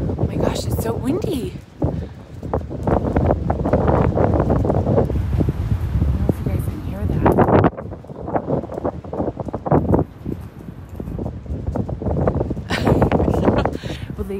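Strong gusting wind buffets the microphone throughout a walk in Amsterdam, a loud steady roar with surges, while a person talks over it.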